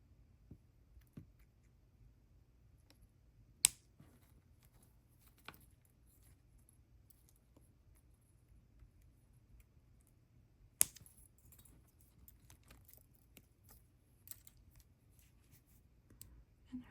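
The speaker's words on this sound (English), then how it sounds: "And then what I'll do is trim off the excess wire" Excess bead wire is trimmed with cutters during bracelet making, giving a couple of sharp, isolated snips and light clicks against a near-silent background.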